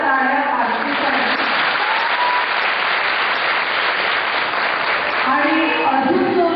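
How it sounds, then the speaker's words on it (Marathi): Loud, dense audience applause for a speaker at a "Save Girl" seminar, sustained evenly for several seconds as a continuous roar of many hands, with no voices on top. "एकदा जोरदार टाळ्या आरतीसाठी"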